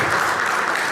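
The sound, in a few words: audience applause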